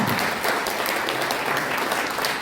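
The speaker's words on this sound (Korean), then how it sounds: "다시 한번 큰 박수 부탁드리겠습니다" Applause from an audience at a lecture forum, a loud, dense burst of clapping filling the whole moment without speech.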